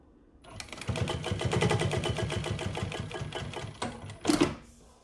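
Prosew PS-1933B industrial sewing machine sewing a straight line with the thread nipper on, no back tacks, a fast steady mechanical chatter that runs for a few seconds and then stops, followed by a short clunk.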